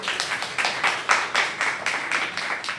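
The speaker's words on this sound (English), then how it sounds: "Let's give her another round of applause" A crowd applauds the founder of a nonprofit foundation at its second anniversary celebration, a brisk, close round of clapping with distinct rhythmic hand claps, loud and alone.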